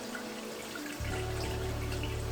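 Faucet water runs into beef tripe, starting with a soft trickle then swelling after a second into a louder, steady gushing flow filling the tripe inside a sink, close and uninterrupted.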